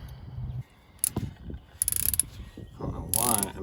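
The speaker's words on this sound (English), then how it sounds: "Switch her over to the ratchet." A ratchet wrench loosening bolts on a Toyota Tundra steering rack, with several bursts of close, rapid clicking, the longest near the end, amid workshop clatter.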